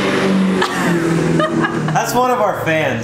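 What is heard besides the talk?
diesel truck revving as it drives by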